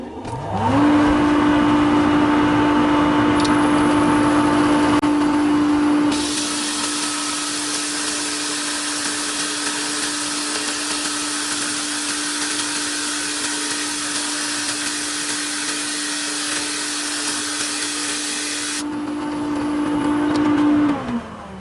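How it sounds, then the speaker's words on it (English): A hoover runs in a woodturning workshop, a loud, steady motor roar with a constant hum, shifting to a brighter, harsher whine for most of the clip before settling back near the end. "I'll put the hoover on."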